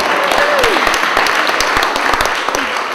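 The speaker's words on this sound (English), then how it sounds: "it's worth a round of applause." A wedding crowd breaks into loud, steady applause, dense clapping filling the space while a voice carries faintly over it.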